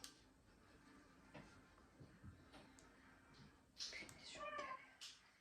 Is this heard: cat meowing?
yes